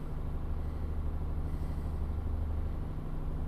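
A steady, deep Mercedes Actros truck engine in Euro Truck Simulator 2 drones at constant highway speed, a low even hum with road noise and no voices.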